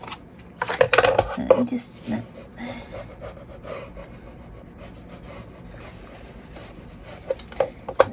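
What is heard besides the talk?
scissors cutting off corners of paper for mini album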